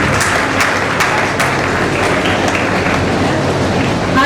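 A hall audience at a Brahmin community talent-encouragement and senior-citizen felicitation event claps steadily to welcome guests, a loud continuous patter with a few sharper claps, talk faintly mixed in.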